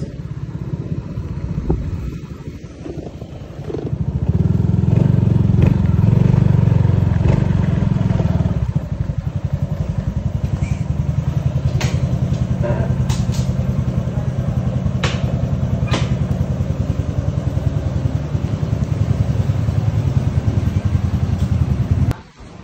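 A Rusi RS 125 motorcycle engine, fresh from a clutch housing replacement, runs close by in a shop, revving up and then settling into a loud, steady idle with occasional clatter, no one speaking.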